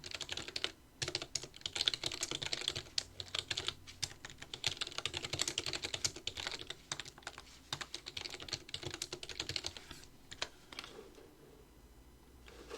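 Commands are typed on a computer keyboard in CAD software, giving a steady, close run of quick key clicks with brief pauses and no talk.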